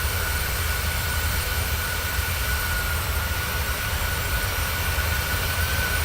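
A Ryanair 737-800 in Microsoft Flight Simulator 2020 makes a low flyby near Exeter and Dawlish. A steady, broad jet-engine roar drones on at even loudness throughout, with no voices.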